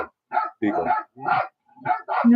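A beagle barking as played through an Amazon Alexa smart speaker: a quick series of about five or six short, clipped barks and yips in an uneven rhythm, fairly close and clear, with no talk over them.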